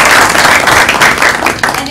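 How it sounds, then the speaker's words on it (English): Audience applause at a county school board of education meeting honoring a student artist, dense steady clapping filling the whole stretch with a voice briefly over it near the end. "let's give Molly another big round of applause."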